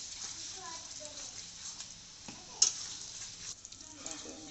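Cooked chicken being stirred with kasundi in a pan, giving soft scraping and gentle sizzling with a sharp clink partway through, beneath a woman's speech.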